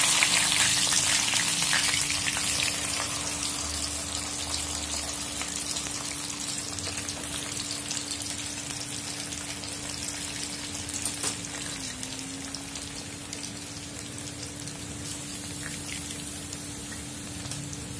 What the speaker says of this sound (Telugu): ఇలాగా బాగా నూనెలో ఆయిల్లో బాగా వేయించేసుకోవాలి ఫ్రెండ్స్.